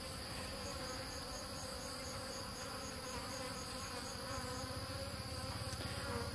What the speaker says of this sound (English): they seem to be buzzing around the rocks a lot